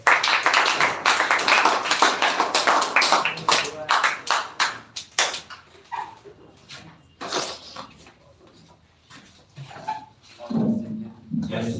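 An audience at a school speech competition semi-final claps for a speaker, loud and dense at first, then thinning to scattered claps mixed with voices and shuffling.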